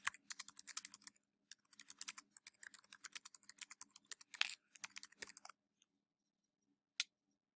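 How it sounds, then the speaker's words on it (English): Typing on a computer keyboard while entering a quiz question in Kahoot: quick, close, clattering keystrokes in uneven bursts with short pauses, then tapering off into a few isolated taps and a final single click. "here in this box, you can type your question"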